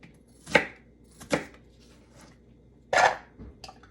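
Three sharp knife chops through a small onion on a cutting board while making pico de gallo, spaced irregularly, close and crisp with quiet pauses between.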